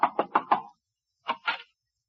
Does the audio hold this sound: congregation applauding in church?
no